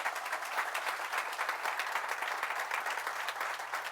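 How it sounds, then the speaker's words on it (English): Steady, dense applause from an audience at a town swearing-in ceremony, for the Town Hall team, sustained and even throughout with a low constant hum underneath. "please give our team at Town Hall a round of applause"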